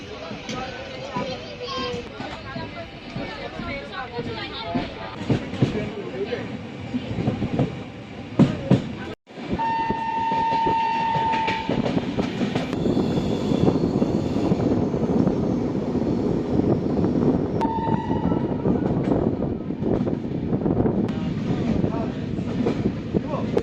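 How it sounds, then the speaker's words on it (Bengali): The Kanchankanya Express, 13150 from Alipurduar to Siliguri, runs through forest as heard from inside a general coach: a steady rumble with rattling wheels, a brief dropout, and short tonal squeals or horn-like notes, with people talking at times. "জঙ্গলের মাঝখান থেকে ট্রেনটা যাচ্ছে"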